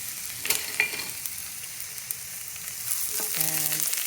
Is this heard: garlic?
yes